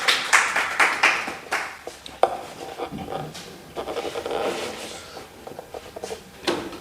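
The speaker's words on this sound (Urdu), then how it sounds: "زوردار تالیوں سے آپ استقبال کریں" An audience at an Urdu poetry gathering claps in a quick rhythmic run of bursts that then breaks into looser, scattered clapping to welcome a poet to the stage.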